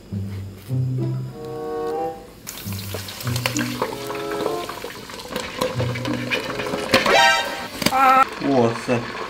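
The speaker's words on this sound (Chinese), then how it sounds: "油温七八成了就会下锅炸了" A pork knuckle deep-fries in oil heated to seventy or eighty percent, sizzling loudly with bursts and crackles that swell and spit, while a person talks over the frying.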